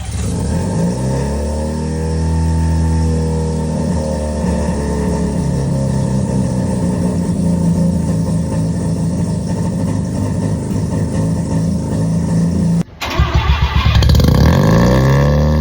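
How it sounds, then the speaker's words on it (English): A Mazda Miata fitted with a swapped-in rotary engine fires up and runs at a loud, steady idle with a buzzy, uneven rumble. Near the end it cuts out briefly, then blips into a sharp rev. "Connect all those together, car starts up."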